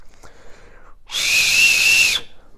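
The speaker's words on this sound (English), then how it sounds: "And it also has a whistle." A shrill, piercing whistle from the reusable glow stick in a Camillus survival kit blasts loud and close for about a second, preceded by faint handling clicks and rustle.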